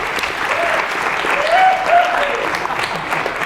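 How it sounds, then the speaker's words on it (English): An audience on a late-night talk show, during a teachers-versus-students game show segment, claps in a dense, steady round of applause that carries loudly through the whole moment, with a voice faintly audible beneath. "Give him a big round of applause."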